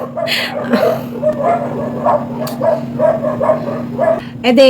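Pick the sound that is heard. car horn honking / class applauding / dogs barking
dogs barking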